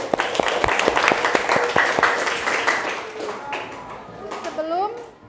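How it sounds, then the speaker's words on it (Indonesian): Students in an Indonesian classroom clap together in a dense burst of applause that gradually thins out, with scattered children's voices and chatter audible near the end. "Tepuk tangan dulu untuk kalian"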